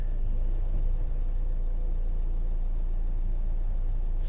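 Renault Scenic III with a 1.5 dCi diesel engine, 175,000 km on it and an automatic gearbox, idles steadily close by as a low, even rumble that holds for the whole stretch with no talking.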